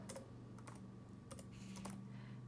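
Computer keyboard typing of a math entry into Desmos: a few quick, light key clicks in small clusters over a low steady hum, close and quiet, without talking.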